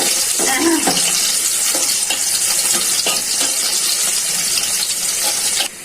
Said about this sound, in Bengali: তেলটা গরম হয়ে গেছে, পেঁয়াজ কুচি দিয়ে দিচ্ছি।